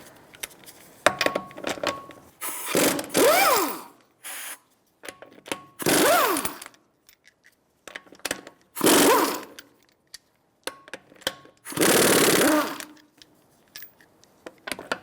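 Lug nuts on a 2007-2012 Nissan Altima rear wheel come off with a 21mm socket: several loud bursts of power-tool rattle and whirring, separated by short pauses and small metallic clinks, close by with no talk.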